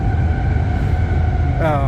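A passing train behind a shop makes a loud, continuous low rumble and hum, with a voice briefly speaking over it near the end.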